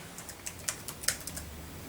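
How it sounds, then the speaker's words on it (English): A password is typed on a computer keyboard at a Linux login prompt, heard as a quick, light run of close, distinct key clicks in an otherwise quiet room. "now just type in the usual password"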